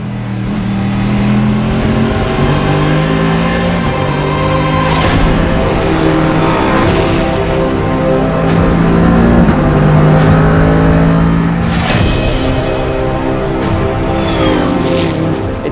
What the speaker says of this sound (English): It's like the AC/DC of race cars, you know. It sounds like thunder and it goes like lightning.